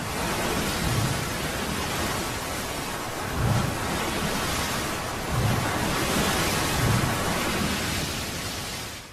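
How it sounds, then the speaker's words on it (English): Storm-driven ocean waves roar as a dense, continuous wash. Deep surges swell and break every couple of seconds, with no voices. "And that's a rogue wave."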